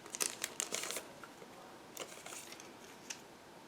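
A plastic bag crinkles as a decal sheet for a 1/35 scale model kit is pulled out, with bursts of close rustling that fade to quieter handling.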